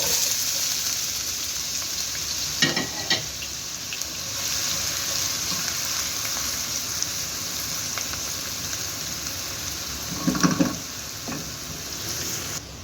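Onions fry in oil in a pan with a steady, soft sizzle throughout, interrupted by a couple of brief clattering stirs or scrapes.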